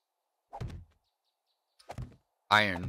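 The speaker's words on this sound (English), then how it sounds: "So I'm just laying down my wood frames for now" Wood frame blocks being placed in the survival game 7 Days to Die: three short hollow thunks spaced apart, the last one louder and longer, with silence in between.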